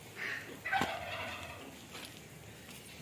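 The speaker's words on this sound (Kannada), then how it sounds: "ಕಡಕ್ನಾಥ್ ಮತ್ತು ಇದು ಬೆಂಕಿ ಕೋಳಿ" Kadaknath and fire chicken breeds on a farm, with a faint, brief, gobbling poultry call rising over quiet outdoor background.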